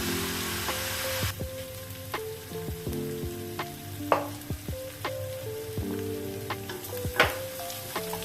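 Onions fry in a pan for a prawn curry, a continuous soft sizzle broken by repeated clinks and scrapes of a stirring utensil, close and moderately quiet, with no talking.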